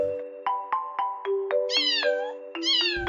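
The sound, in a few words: cat meowing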